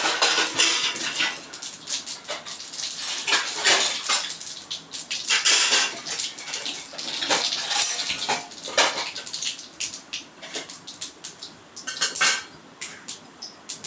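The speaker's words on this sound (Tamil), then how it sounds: "கடுகு பொரியுது பாருங்கள்." Mustard seeds crackle and splutter in hot oil in a pan for a Tamil avarakkai (broad bean) poriyal, a close, loud, dense run of irregular sharp pops that keeps going throughout with no talking.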